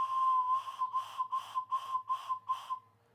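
A whistle carved from a carrot with an overly long mouthpiece sounds a steady near tone, then breaks into about seven short, evenly spaced blasts as the player blows harder.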